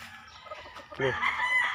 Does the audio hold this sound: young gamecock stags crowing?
yes